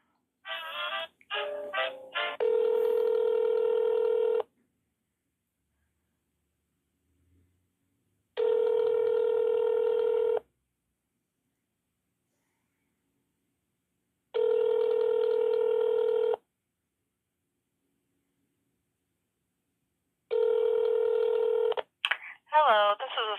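Telephone line tones during a transfer to a county civil department: a burst of dialing beeps, then three long evenly spaced ring tones with silent gaps, ending as an answering greeting begins.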